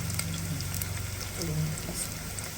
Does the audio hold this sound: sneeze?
no